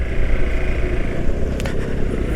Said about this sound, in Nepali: इन्जिन चाहिँ स्कुटीको जस्तो छ